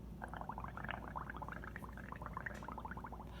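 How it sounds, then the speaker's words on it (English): Bubbles are blown through a straw into a cup of liquid, making a quiet, rapid, continuous gurgling burble that lasts a few seconds with no voices. "you're gonna take your straw and you're gonna blow some bubbles"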